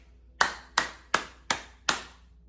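Five sharp hand claps ring out in an even, steady pulse as a 3/4-time ear-training exercise, close and crisp against near silence, with no voice.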